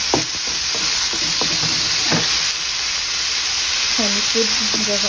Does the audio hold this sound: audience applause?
no